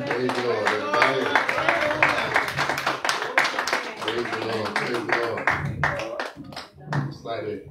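A church congregation clapping hands together in a steady, sustained burst of dense, loud claps, mixed with voices calling out.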